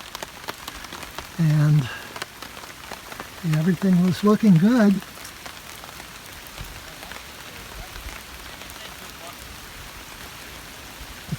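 Steady rain patters on a camping tent in a soft, even hiss throughout, while a person speaks briefly near the start.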